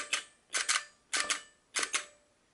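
A Tyco toy train unloading boxcar's mechanism fires four times in a steady rhythm, each a sharp, close double snap with a bright clicky crack, alone with no talk.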